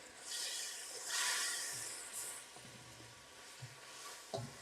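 Ginger pieces sizzle in a hot pan as they are stirred, a close, soft crackling hiss that swells and fades with a few light scraping knocks.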